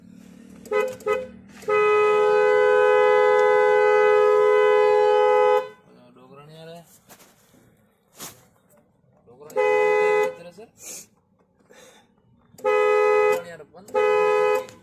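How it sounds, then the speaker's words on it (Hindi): A Volkswagen/Audi car horn, wired through a temporary bypass after a clock spring fault, blasts in several bursts: one long sustained honk, then a few shorter toots with quiet gaps and small workshop noises between them. "इस तरीके से हमने इसमें हॉर्न बाईपास लगाया।"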